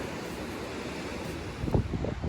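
Wind blows steadily across the microphone at a sea beach, and a wave washes in partway through, rising briefly above the constant windy hiss.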